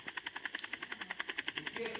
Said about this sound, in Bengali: এখান থেকে হেলিকপ্টার আওয়াজ আসছে।